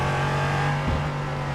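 Race car engines drone steadily in a sports car series racing game at the Jerez circuit, a loud continuous hum with a brief swell midway, no voices.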